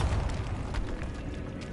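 A Bombarda blasting spell explodes in Hogwarts Legacy with a loud, booming burst of low rumble and crackle that fills the moment, then a steady roar trails off without clear breaks.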